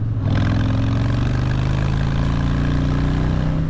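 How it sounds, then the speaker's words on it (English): A 2020 Harley-Davidson Fat Boy motorcycle engine runs close by with a deep, steady rumble that holds an even level throughout after a brief quieter start. "Listen to that engine."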